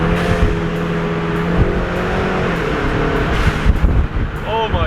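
A 2021 Camaro SS 1LE engine drones and revs steadily, loud and close, with pitch shifting as it accelerates and downshifts, and a voice speaking over it.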